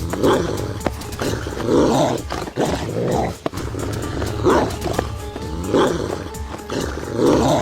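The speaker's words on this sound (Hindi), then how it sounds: "अरे ये मेरे पीछे कुत्ता कहाँ से आ गया?" A black dog chasing someone gives off repeated rough, growling barks and snarls in bursts, loud and close over a dense, dramatic background score, with no talking.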